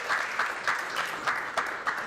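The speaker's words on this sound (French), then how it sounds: "C'est pour la White que vous applaudissez, c'est ça?" An audience at a coding meetup claps in a short burst, the applause pulsing in a few uneven surges, moderately loud and close, with no voices on top.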